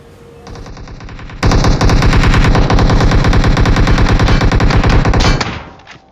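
Loud sustained automatic gunfire from a video game, rapid continuous bursts after a quieter opening, with no talking.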